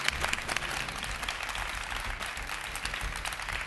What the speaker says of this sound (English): a round of applause for Siphosenkosi